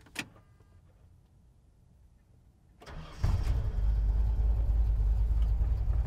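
A key turns in the ignition of a 1966 Ford F100 truck in Las Vegas: a small click, a quiet pause, brief cranking, then the engine catches and settles into a loud, steady idle close by.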